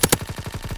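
Sharp sniper rifle fire in Call of Duty: WWII, two loud cracks in quick succession followed by a fast, fading train of softer repeating thumps.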